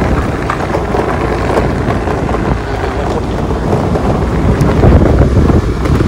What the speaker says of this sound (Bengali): গাছ থেকে বৃষ্টি বৃষ্টি গায়ে পড়ছে।